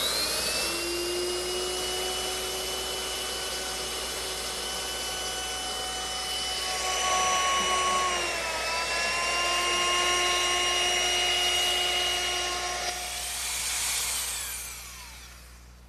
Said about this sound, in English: Continue this quarter round up over the end of the saddle, and I'll use the same router setup that I used before.